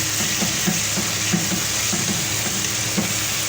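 Chicken pieces and masala frying in a pan for chicken karela, a steady broadband sizzle with soft periodic stirring scrapes, close and continuous with no talking.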